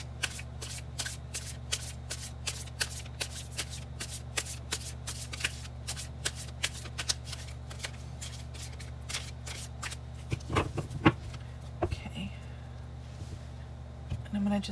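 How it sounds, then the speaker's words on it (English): Tarot cards are hand shuffled in quick, regular riffling bursts over a steady low hum, close and fairly quiet, with a few handling clicks near the end. "And hand shuffle these just a little bit."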